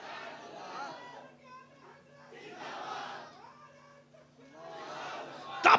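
A crowd chants the takbir slogan in three swelling waves of massed voices, each rising and falling. A lone voice leads between the waves, and a sharp noise burst cuts in at the very end.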